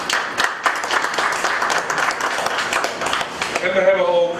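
Audience applause fills a bachelor presentation hall, a steady mass of clapping hands at moderate level that thins toward the end as a voice begins over it.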